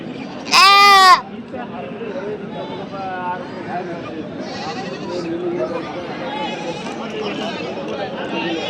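Goats bleat at the Kadiri goat market, one loud close quavering bleat followed by fainter bleats farther off, over a steady murmur of people talking.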